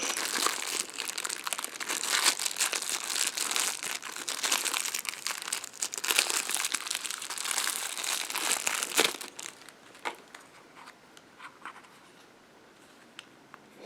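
Plastic packaging on an Anker ROAV A1 dashcam crinkles and crackles continuously at close range, busy and dense for about nine seconds before thinning to sparse, quieter rustles and small handling clicks.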